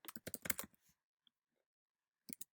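A short burst of keystrokes on a computer keyboard, close and crisp, then a pause and a couple more taps.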